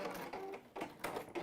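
A sewing machine stitches a seam on a fabric EPP pouch, giving a close, steady mechanical whirr in a few short bursts with brief pauses between.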